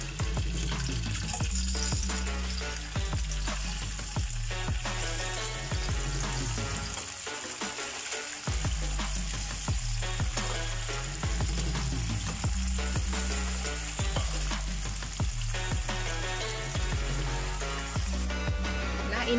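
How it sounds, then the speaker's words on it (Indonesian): Tofu frying in hot oil in a home kitchen for an Indonesian cauliflower and mushroom dish, a continuous crackling sizzle with repeated scraping and stirring clatter, fairly close and steady, no voices. "aku mau menggoreng tahunya ini dulu ya"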